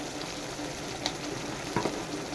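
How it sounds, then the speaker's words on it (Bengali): Ground spices (cumin, coriander, black pepper and turmeric) with ginger and garlic fry in oil for a fish-in-mustard dish, a steady moderate sizzle with a few light spatula taps, no talking. "আমি মশলাটাকে আবার কষাবো চারিদিকে তেলটা বার হয়ে এলেই আমার মশলা কষা রেডি হয়ে যাবে"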